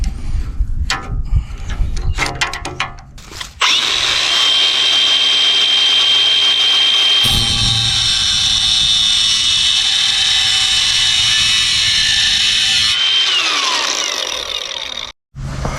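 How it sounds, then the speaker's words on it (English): An angle grinder cuts off a piece of metal trim while a garage door weather seal is being fitted. A steady, loud, high grinding whine holds for about nine seconds, stops briefly, starts again and then spins down. "see if we can grind this off here"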